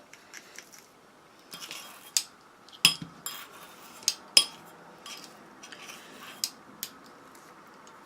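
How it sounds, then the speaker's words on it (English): A spoon scoops strawberry lip scrub into a small container, making a sparse series of light clinks and scrapes against the container, close and quiet over near silence. "I'll just spoon this into my little container."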